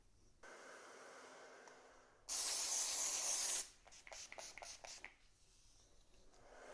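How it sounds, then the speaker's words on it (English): A single sustained hiss of an aerosol texturizing hair spray can, about a second long, close by, followed by quiet rustling and brushing sounds. "A generous amount of texturizing spray"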